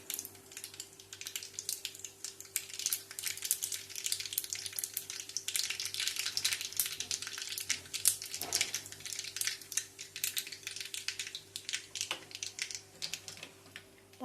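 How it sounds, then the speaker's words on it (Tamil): Mustard seeds and a chili tempering in ghee for a greens curry, crackling and popping in a dense, steady stream of sharp sizzling ticks close by, over a faint constant hum. "தாளிப்புக்கு கொஞ்சமாக கடுகு, நெய் போட்டு தாளிக்கிறேன்."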